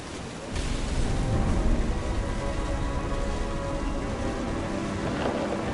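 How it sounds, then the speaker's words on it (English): Steady heavy rain with a deep rolling thunder rumble from the video game What Remains of Edith Finch, loud and continuous from the start, with no talk over it. "The thunder sounded much too close and full of angry power."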